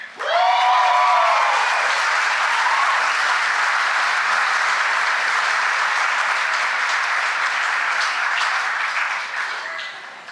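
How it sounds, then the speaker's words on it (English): An audience applauds an award recipient at a 2019 honors and awards ceremony. A loud, dense wash of clapping holds steady for about ten seconds, with a voice heard briefly at the start. "I expect to hear some hearty applause"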